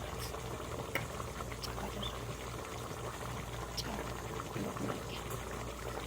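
Potatoes bubble steadily in a pot of salted water mixed with squeezed orange juice, a continuous close simmering hiss with small pops throughout.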